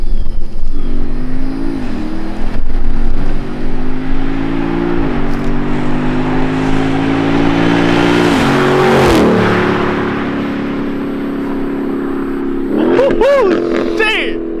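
A Dodge Durango Hellcat and a 392 Scat Pack street racing, with a loud, close engine roar that climbs and drops through several gear changes, strained revving and wind rush throughout, ending in a sharp high rev.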